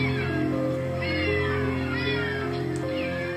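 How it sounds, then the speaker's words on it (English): Several cats meowing loudly and continuously up close, with overlapping drawn-out cries over a steady background hum, in a home crowded with many cats. "I have 65 cats."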